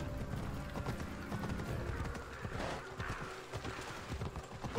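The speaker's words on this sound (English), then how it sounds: "Look, guys, this horse is not an ordinary horse." A horse gallops with rapid, continuous hoofbeats in the Assassin's Creed video game, with whinnying mixed in, steady and fairly close throughout.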